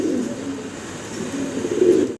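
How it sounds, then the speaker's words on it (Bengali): Pigeons at a pigeon seller's display give low, continuous cooing and burbling throughout, with a slightly louder coo near the end, close by and with no talk over it. "সিঙ্গেল এক পিস কবুতর দেখাচ্ছি আবারও আপনাদের।"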